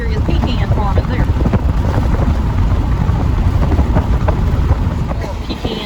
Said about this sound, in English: it's pouring down rain too. I'm pretty sure you can hear the wind and see the rain